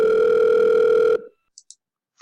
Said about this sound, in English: I want it to ring on the click of Rectangle 8